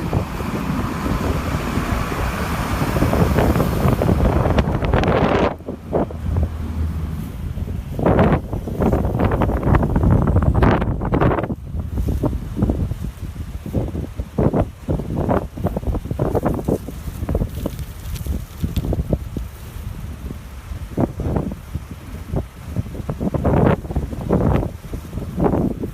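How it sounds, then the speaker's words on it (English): Strong wind buffets the microphone outdoors, producing heavy low-frequency rumble and irregular bursts of blasting noise that continue throughout with no clear pauses. "They can't hear me because this wind is so treacherous."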